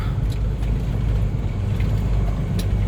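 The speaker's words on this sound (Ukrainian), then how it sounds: "Буксує машина." A car reversing on icy, frozen ground with worn tyres, its wheels spinning and slipping while the engine drones in a steady, loud low rumble throughout, with no speech.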